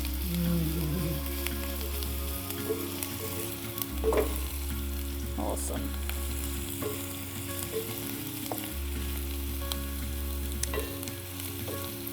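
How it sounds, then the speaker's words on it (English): Onion and garlic sizzle steadily in a hot pan, a loud continuous crackle with occasional stirring clatter and a low hum beneath. "is there no better smell than onion and garlic frying?"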